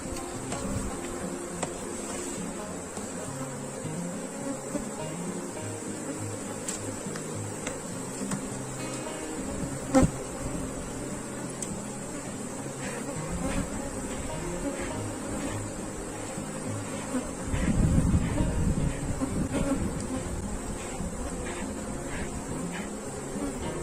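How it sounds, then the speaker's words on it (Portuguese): Honey bee colony buzzing steadily during a hive inspection, a dense continuous insect drone with occasional clicks and knocks of handling the boxes and a louder rumbling burst near the end. "Então vamos ver aqui o que é que esse enxame está precisando."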